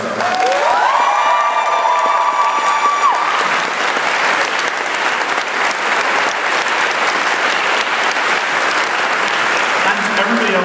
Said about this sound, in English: you also need to give a huge round of applause to Kat and Amy who ran all of the cosplay stuff